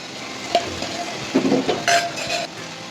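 Soybean chunks tipped into a pan with tomato and stirred as they fry, a sizzle under clattering utensil scrapes and metallic clinks against the pan, close and uneven.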